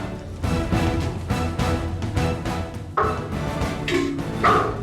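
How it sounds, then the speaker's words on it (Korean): A search-and-rescue dog barks repeatedly after locating a hidden person's scent, loud and close, with steady ambient noise underneath and a couple of sharper, higher yelps toward the end. "사람 냄새를 확인하자 곧 짖기 시작했다"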